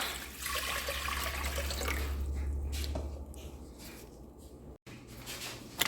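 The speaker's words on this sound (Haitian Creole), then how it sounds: "Ajoutez de l'eau, hein." Water is poured into a small pot while preparing a herbal home remedy, a close, steady splashing stream that lasts a few seconds and then thins to scattered trickles and drips.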